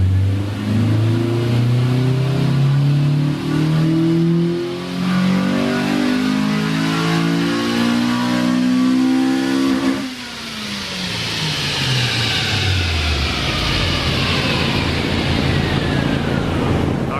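A 2000 EM1 Honda Civic Si with a swapped B18C Type R engine revs hard on a dyno, its pitch climbing for about ten seconds before the throttle lifts and the engine winds down, loud and close.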